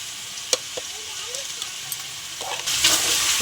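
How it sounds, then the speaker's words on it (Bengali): Chicken sizzling as it is sautéed in a pan of spiced masala for a Bengali chicken kosha, a soft continuous frying hiss with a few sharp clicks of stirring, growing louder toward the end. "চিকেনটা দিয়ে দিলাম, ভালো করে কষিয়ে নেব চিকেন দিয়ে"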